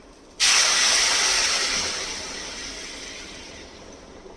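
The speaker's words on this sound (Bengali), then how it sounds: "এবারে এটার মধ্যে দিয়ে দেব গরম জল।" Hot water hits a cooking sour mango and poppy seed dish with a sudden loud hissing rush of steam that starts abruptly and slowly fades over a few seconds, with no speech.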